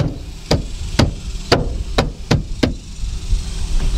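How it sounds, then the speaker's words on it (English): A hand pounding a car dashboard trim panel into place during a dash cam install: six sharp, evenly spaced thumps about half a second apart, close and loud, then quiet. "with your hand, pretty much just hammer it down"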